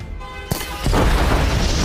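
A bomb blast in a war film about special forces and ISIS fighters: a sharp loud impact followed by a sustained roaring, crackling explosion that fills the rest of the moment, with no talk over it.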